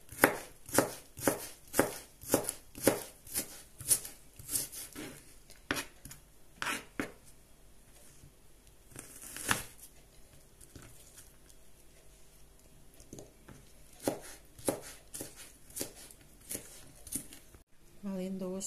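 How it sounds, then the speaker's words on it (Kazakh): A knife finely chops onions on a board, a quick run of crisp taps that slows and thins to scattered cuts, then picks up again in short bursts near the end; no talk over it. "Пияздарымыздың бәрін үстіп тура аламыз."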